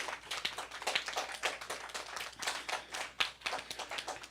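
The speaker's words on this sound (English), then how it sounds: "Let's give Jaden and Justice another round of applause" Audience applause at a spring choir program, a dense burst of many hands clapping steadily for the whole stretch with no one speaking over it.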